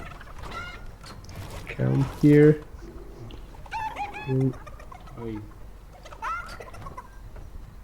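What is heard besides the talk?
chickens clucking in a video game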